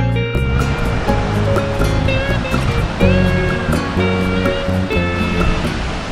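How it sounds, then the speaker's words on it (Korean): Ocean waves roll steadily onto the black-sand Sagye beach on Jeju in rough weather where surfers ride, a loud continuous surf wash that fills the scene without pause. "궂은 날씨에도 파도가 좋아 서퍼들이 즐기고 있네요."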